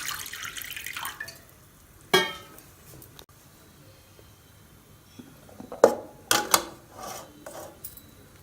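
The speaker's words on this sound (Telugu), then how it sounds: "స్టాండ్ పెట్టి కొంచెం వాటర్ పోసి" Water poured into a pressure cooker pot fitted with a stand, ready for boiling baby potatoes. Close, short splashes and metallic clinks come in a few bursts, with quiet stretches between them.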